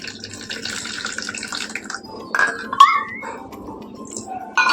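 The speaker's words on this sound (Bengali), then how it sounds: "চিড়েটা একটু ধুয়ে নেবো চিড়েটা ধুয়ে নিয়ে" Flattened rice (chira) rinsed in water by hand in a home kitchen, with soft sloshing and trickling plus a few light clinks of a bowl, steady and close, with no talking.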